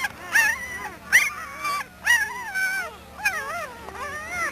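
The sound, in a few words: puppies whimpering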